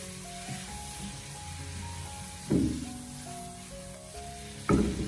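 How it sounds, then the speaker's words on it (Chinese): Twice-cooked pork is stir-fried over high heat in a wok with seasoning, a steady close sizzle under the tossing. Two loud scraping bursts of the spatula stand out midway and near the end, over a quiet tonal background. "再立刻的调为大火，将它快速的翻炒一下"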